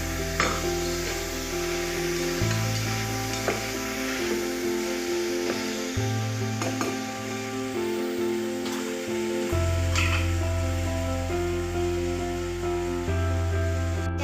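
Washed fenugreek leaves fry in a pan for methi pulao, a continuous soft sizzle and hiss with occasional stirring scrapes, heard close under steady background music.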